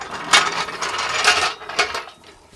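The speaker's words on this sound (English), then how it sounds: "I think the jack is the loudest known noise" Car jack being pumped under a 1946 Chevy during a wheel change, a few metallic ratcheting clanks in an uneven rhythm, close and fairly loud with no talking.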